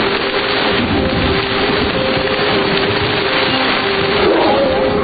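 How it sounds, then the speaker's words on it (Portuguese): Dense, roaring downpour of heavy rain in Hawaii, constant and loud throughout, with a faint low tonal hum running underneath. "isso resulta em chuva numa escala monumental"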